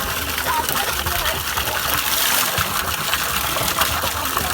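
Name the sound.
cold water running from an open pipe on a Himalayan trek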